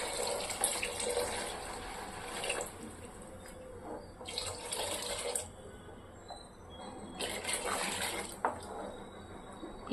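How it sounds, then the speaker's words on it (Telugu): Coconut milk poured into a simmering Telugu-style fish curry pulusu: a soft, continuous liquid pouring and splashing, faint and close, rising in a few brief surges, with no talking. "కొబ్బరి పాలు వేసుకుంటున్నాను."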